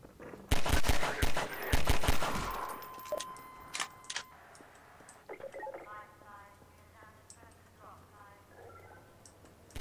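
Gunfire in a Half-Life 2 mod: a loud rapid automatic burst early on, then sparse single shots and clicks fading under a man's speech.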